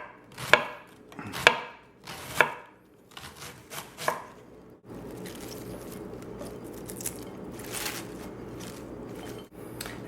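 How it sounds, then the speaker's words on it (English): A knife slices red cabbage thinly on a cutting board in four crisp, evenly spaced chops, followed by softer rustling and shuffling of the shredded cabbage, close and fairly quiet, without talk. "The red cabbage, same thing, just nice and thin."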